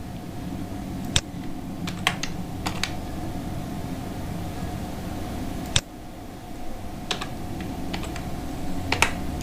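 Sharp mouse clicks, some in quick pairs, scattered over a steady low hum of room noise; no talking.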